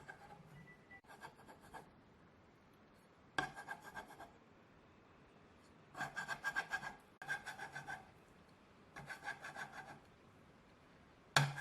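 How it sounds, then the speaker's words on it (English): Dough scraper working pastry dough for custard tarts, soft scraping and rubbing strokes in several separate bursts, faint and close with quiet gaps between. "I use a scraper."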